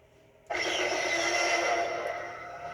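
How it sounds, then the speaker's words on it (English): An Inquisitor Neopixel lightsaber from SabersPro ignites on its Jurassic sound font, a sudden loud onset settling into a steady buzzing hum that fades slightly, with no voices. "it has dinosaur roars in the background"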